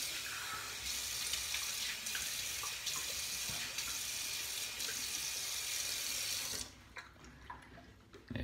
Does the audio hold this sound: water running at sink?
yes